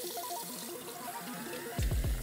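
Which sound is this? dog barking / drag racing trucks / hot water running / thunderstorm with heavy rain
hot water running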